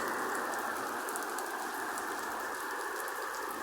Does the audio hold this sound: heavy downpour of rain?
yes